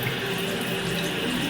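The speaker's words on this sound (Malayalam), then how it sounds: "അതാ കണ്ടില്ലേ, വെള്ളം പോകുന്നുണ്ടില്ലേ." Water gushes steadily from a bathroom tap in a home washroom, a close, continuous splashing hiss without pauses or voices.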